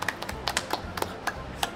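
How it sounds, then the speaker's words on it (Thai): A few people clap hands together at a shabu buffet restaurant during a birthday outing, giving about a dozen light, uneven claps at close range, with no talking over them. "ปรบมือค่ะ"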